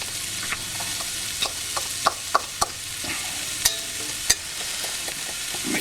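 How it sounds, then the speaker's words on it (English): Beaten egg with cheese frying in a pan on a Trangia Mini camping stove, a steady close sizzle broken by scattered sharp clicks and scrapes of stirring. "Right, it's frying up now."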